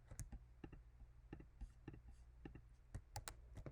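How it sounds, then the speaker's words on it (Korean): Command, Option and P keys pressed on a computer keyboard, giving a scatter of quiet, close, sharp clicks in irregular bursts. "제가 방금 커맨드 버튼과 옵션 버튼 그리고 P 버튼을 눌렀어요"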